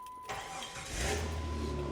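A Jeep Grand Cherokee engine cranks and catches in a garage bay, a short starter whine rising into a steady idle rumble that holds to the end, close and fairly loud, with no talk.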